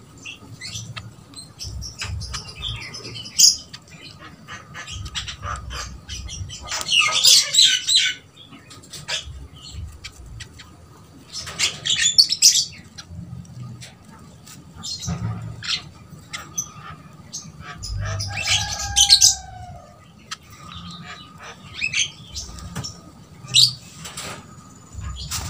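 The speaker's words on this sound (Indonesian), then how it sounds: "pada lapar burungnya ini" Ombyok birds in an open, unfenced aviary give sharp, squawking chirps in scattered bursts, with brief pattering and wing flaps, while a person speaks intermittently nearby.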